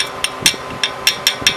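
A hammer taps on a spindle nut of a 2008 Honda Civic during driver-side CV axle replacement, giving seven sharp metallic knocks in a loose, uneven rhythm, close and fairly loud with no talk.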